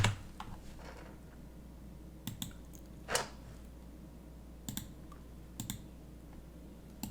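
Scattered keystrokes on a computer keyboard come in a few sparse clicks and short clusters over a steady low hum, fairly close and with no talk.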